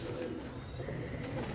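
Pet pigeons kept by a pigeon fancier in Lahore coo softly and repeatedly, the low, rounded calls partly buried in steady outdoor background noise.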